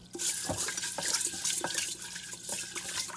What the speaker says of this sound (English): I'm rinsing the rice until the water is clear